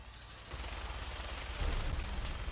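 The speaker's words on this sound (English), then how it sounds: "more explosions than a Michael Bay film" A modded quad-shot explosive minigun in Fallout 4 roars with rapid continuous fire and booming blasts layered on top, loud and sustained, intensifying in the second half.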